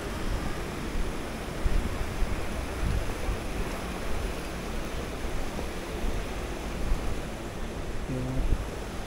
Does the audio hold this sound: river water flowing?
yes